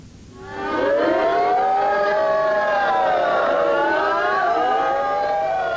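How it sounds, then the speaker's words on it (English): An air raid siren wails over Tel Aviv during the Gulf War, rising within the first second into a loud, sustained, slowly undulating howl that fills the whole stretch with no talking. "Learning to live with sirens and war, a pick-up kindergarten."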